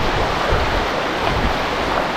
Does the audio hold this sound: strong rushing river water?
yes